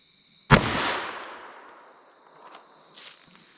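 A single .357 Magnum shot fires a Hornady XTP hand load into a gel block, a sharp sudden crack that trails off into a decaying echo, with faint knocks afterward.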